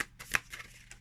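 Tarot cards being shuffled by hand, brief soft riffling swishes and a light slap, close and quiet.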